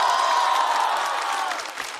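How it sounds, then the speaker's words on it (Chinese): Studio audience applause and cheering at a Chinese talk show with Xiaolu, a broad steady roar of clapping that fades slightly toward the end, with no talking over it. "掌声再给小鹿。"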